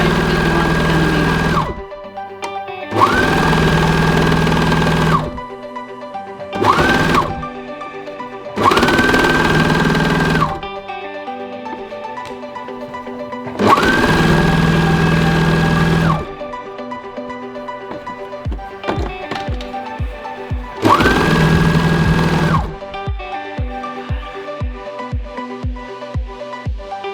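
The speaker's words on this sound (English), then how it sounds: "You just got to feed it through. Make sure you grab both fabrics." An overlocker serger stitches a seam through two layers of fabric, running in several loud, steady bursts of a few seconds each, separated by brief pauses and clicks.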